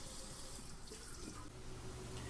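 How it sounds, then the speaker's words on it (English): Water pours steadily from a Kraus KPF-1650 commercial-style kitchen faucet into a sink, a constant close splashing rush with slight shifts as it strikes dishes, no talking over it. "You want to be mindful of that water pressure when rinsing your dishes."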